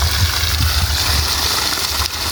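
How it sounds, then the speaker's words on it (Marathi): Water gushing and gurgling steadily from an electric pump motor running in a farm well, a continuous close flow with a low churning rumble throughout. "हिरीतली मोटर चालू केली आहे ही आता"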